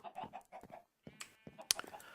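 Chickens clucking in the video game Minecraft (Sky Factory 3 modpack), a run of short bursts followed by a sharper squawk, fairly close and moderately loud with no talk.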